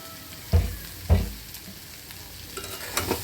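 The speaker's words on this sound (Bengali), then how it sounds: "ধনিয়া পাতা দিয়ে আবার নাড়াচাড়া করে মিশিয়ে নিচ্ছি" Coriander leaves stirred into taro root curry frying in a pan: two heavy spatula strokes scrape and thump near the start, then sizzle continues with lighter stirring clinks, no speech.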